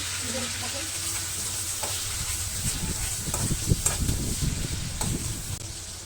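Two onions dropped into hot oil in a home kitchen pan, preparing a Bengali beef and fish curry; a steady, fairly close sizzle with stirring scrapes runs throughout, growing busier midway, with no talk.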